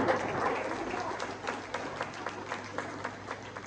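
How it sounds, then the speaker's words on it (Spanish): A church congregation applauds during a sermon, a moderate round of clapping with individual claps standing out as it tapers over a few seconds, heard at some distance. "Dele un aplauso al Señor"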